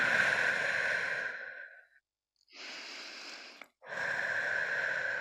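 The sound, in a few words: audible exhales during yoga breathing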